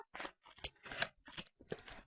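Old school scissors snip repeatedly through packaging to unpack books, five or six quick crisp cuts in close succession, near and fairly faint with no talk.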